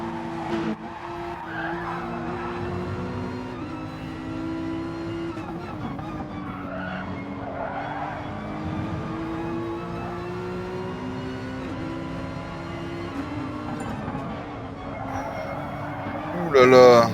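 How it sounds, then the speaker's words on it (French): A Porsche flat-six engine heard onboard in a sim racing game at Brands Hatch wails steadily through long gear pulls, rising and dropping in pitch with tyre scrub, while commentators talk over it. "on va te laisser l'onboard de la Porsche avec le bon bruit du flat 6"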